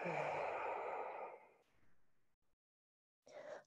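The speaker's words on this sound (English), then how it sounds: "Breathing out." During a yoga class, a long, audible exhale trails off into silence, followed by the start of another close, soft breath.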